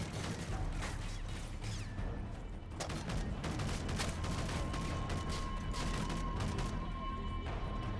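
Rapid gunfire and explosive booms from the video game Call of Duty Modern Warfare 3, a dense continuous barrage of shots and impacts filling the whole stretch at a fairly low level.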